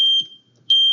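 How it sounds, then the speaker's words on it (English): Two sharp, loud electronic pre-alarm beeps from an SCBA PASS device on a firefighter's air pack, each a piercing steady high tone, separated by a brief quiet gap. "if you let your pack sit for too long, that pre-pass alarm goes off"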